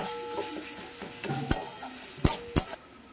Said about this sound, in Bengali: এবার আমি মশলাটাকে খুব ভালো করে কষিয়ে নেব।